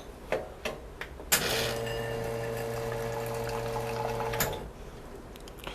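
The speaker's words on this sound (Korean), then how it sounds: "이때는 물이 한 줄기로 강하게 앞으로 나오기 때문에 항상 화상과 안전에 조심하셔야 되고요" An espresso machine group head flushes a strong, steady stream of water into a pitcher, a loud continuous rush lasting several seconds after a few clicks, then cutting off abruptly.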